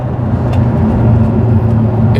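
Lotus Emira i4 sports car at speed on back roads, its engine and road roar a loud, steady, dense rumble heard from inside the cabin, with no talking.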